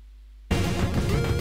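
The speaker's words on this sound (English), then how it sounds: "Music from indoors and outdoors is mixing up." Two pieces of music clash in the Scott Pilgrim vs. the World video game, indoor and outdoor tracks overlapping into a dense, muddled mix that starts abruptly after half a second of near silence.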